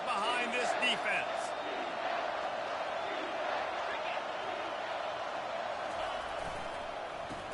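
Crowd noise swells in an NCAA college football video game on a big third down, a broad steady roar of stadium fans with a commentator talking over it throughout.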